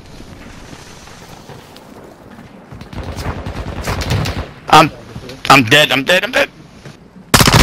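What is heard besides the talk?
gunfire from an enemy in a video game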